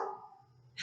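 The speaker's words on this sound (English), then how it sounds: "barking at squirrels in the trees" A dog gives a quick bark, then a second, sharper bark right at the end. Both are fairly quiet and short.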